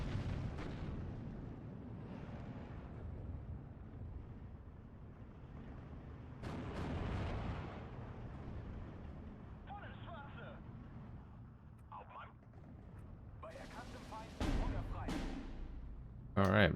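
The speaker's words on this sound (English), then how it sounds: "Just getting bombarded by fire." Artillery bombardment in the World War II strategy game Steel Division 2: low rumbling explosions and bursts of fire roll through a continuous battle din, with several sharper blasts and a voice talking over it.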